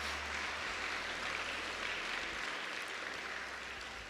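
A hall full of people claps in a continuous, even roar of applause at moderate volume, heard on its own without any talking.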